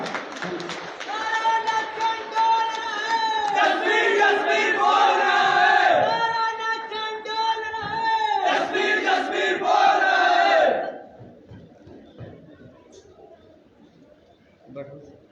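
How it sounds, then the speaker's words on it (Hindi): A crowd at a political rally in a Shiva temple courtyard in the Nachan constituency, where supporters greet a party member with loud, sustained clapping and cheering for about ten seconds before it dies away. "कृपया जोरदार तालियों से इनका स्वागत कीजिए"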